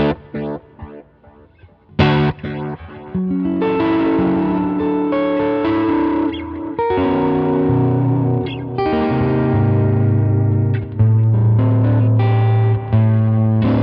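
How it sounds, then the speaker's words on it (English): Electric guitar played through a Line 6 Helix with a tape delay and modulation, chords and single notes repeating in warm, wavering echoes, loud and sustained after a quiet start, with no talk. "I set up a tape delay with foot switch 3 here."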